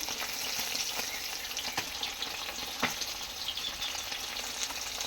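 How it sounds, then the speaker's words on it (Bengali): Parshe fish frying in a pan gives a steady, close, moderately loud crackling sizzle. Two or three sharper pops or clicks stand out, and no one speaks. "মাছ ভাজা বসিয়ে দিয়েছে"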